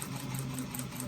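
Domestic sewing machine stitching a seam on a fabric doctor bag, a steady close whirring hum with a faint rhythmic needle pulse that runs unbroken for about a second.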